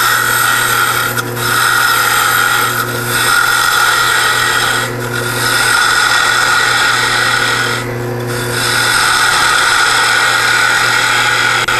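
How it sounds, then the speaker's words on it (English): A wood lathe spins a workpiece while a 3/4 inch roughing gouge shapes the top toward the tailstock. A steady, loud scraping rasp runs the whole time over the lathe's hum, easing off briefly in a few short dips. "now we're going to take our 3/4 inch roughing gouge and continue to shape the top,"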